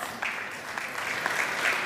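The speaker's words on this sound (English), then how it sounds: "And keep clapping, ladies and gentlemen" An audience applauds at a professional cycling team's 2023 team presentation, the clapping a steady, fairly soft wash of hands that carries evenly through the short moment without any voices.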